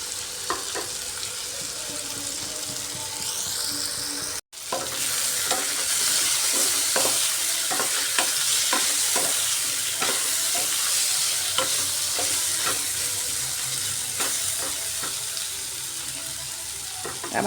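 Potato pieces fry in a pan while being stirred, a constant close sizzle broken by repeated spatula scrapes and clinks against the metal, with a brief cut near the start and no speech.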